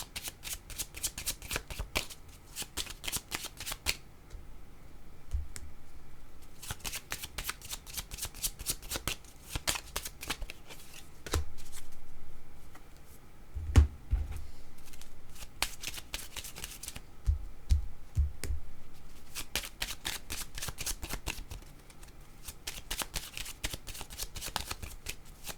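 Tarot cards are shuffled by hand in repeated riffling bursts of crisp, dry flutter, separated by short quiet pauses and a few soft taps, all close and fairly quiet with no talking.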